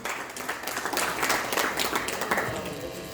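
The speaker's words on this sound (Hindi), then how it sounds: "अश्वनी शर्मा जी, पंडित जी जगाधरी से, सर आइए, जोरदार ताली हो जाएंगे।" Audience applause at a numismatic fair award ceremony, a steady broadband patter of many hands clapping at moderate level throughout, with faint voices mixed in.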